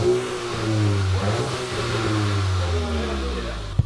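A Volkswagen MK8 GTI engine in sport mode revs and settles in a steady, fairly loud drone, with rising and falling engine tones close by and a faint voice underneath.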